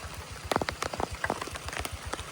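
Rain falls during a bright, sunny spell at a Thai rice field being ploughed, a dense steady patter with close drops striking a surface in irregular bursts, and no voices.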